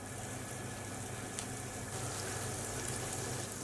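A steady, soft sizzle of butter melting in a pan, a continuous crackling hiss with faint pops and no talking.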